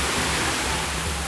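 A river flows somewhere below, heard as a constant, dense broadband rush of water like a waterfall or rapids, steady and fairly loud throughout the short stretch, with no voices.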